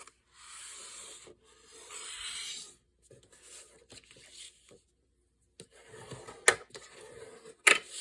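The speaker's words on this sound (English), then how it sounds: "And I'm going to cut it off this side." Soft rustling and scraping of paper being handled and cut for a mixed media project, quiet and close, with a few sharp snips or taps near the end.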